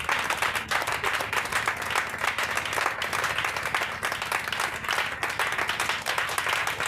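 Congregation in a church service applauding steadily, dense continuous clapping filling the room for several seconds without a break.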